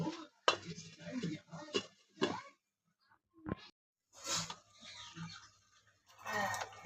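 A lid is set onto a pot while chicken cooks in a home kitchen, giving a few sharp metallic clanks and scrapes of near, moderately quiet cookware, separated by short silences.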